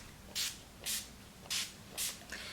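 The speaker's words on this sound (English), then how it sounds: "So what I'm going to do is just hold it at a distance, spray my hair." Hair polish sprays onto curly hair in four short hissing bursts spaced evenly apart, followed by a brief fifth puff, close and quiet with no talking.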